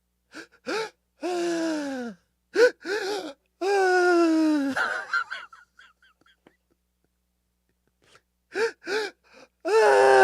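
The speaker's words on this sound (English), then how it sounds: "2 very quick inhales and then 1 long exhale" Breathing exercise done in quick bursts: sharp, gasping inhales followed by long, voiced, sighing exhales. The breaths are close and loud, with a quiet pause midway before the pattern starts again.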